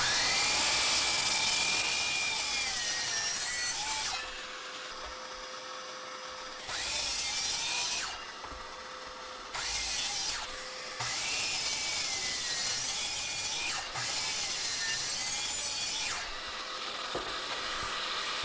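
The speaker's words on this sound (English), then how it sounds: "Since the pieces are nearly 4 feet long, I decided to use the miter saw to make the angled cuts." Miter saw making angled cuts through long Baltic birch wood pieces in a workshop: loud high-pitched whining bursts of the spinning blade, several separate cuts with quieter motor hum and spin-down between them, no talking.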